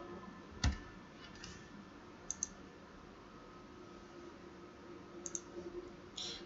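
Scattered keystrokes on a computer keyboard as a currency amount is entered, a few sparse light clicks spread over several seconds with a small cluster near the end, quiet and close against a faint room hum.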